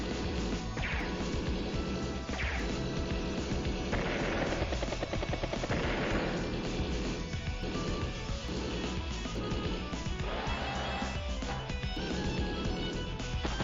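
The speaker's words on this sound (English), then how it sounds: "Battlecopter does get a good strike there." A battle copter strikes in Advance Wars: Days of Ruin, with dense game combat of rotor noise, rapid gunfire and crashing impacts running loud and continuous throughout.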